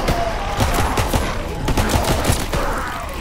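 Shotgun fire and other gunfire crackle in the World War II shooter Call of Duty: WWII. A loud, dense, continuous stream of shots and explosive bursts fills the whole stretch.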